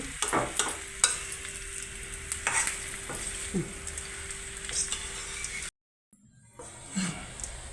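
Raw banana curry frying in a pan with a continuous close sizzle and irregular scraping strokes of a stirring utensil, broken by a brief silent pause before the sizzling resumes more softly.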